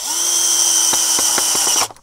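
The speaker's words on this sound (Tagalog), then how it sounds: "meron man akong barena kaya mas madali na siyang ikabit dito" A power drill bores a hole for mounting a solar smart CCTV camera, a loud steady whining motor that runs for almost two seconds with a few knocking bumps near the end before spinning down.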